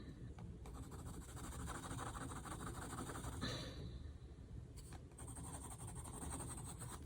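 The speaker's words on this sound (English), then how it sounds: "now I want to go back in with this pencil" A pencil moves across sketchbook paper in quick, close scratchy strokes, a rapid uneven rhythm of soft scraping with occasional breaths.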